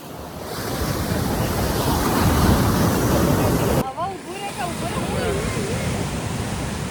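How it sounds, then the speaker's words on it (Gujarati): Large sea waves surge onto Poovar's Golden Beach in Kerala, a loud, roaring surf wash with wind buffeting the microphone, then a sudden cut to softer wave noise with faint voice-like sounds over it. "ખૂબ જ વિશાળ મોજા છે કે આટલા સુધી આવી જાય"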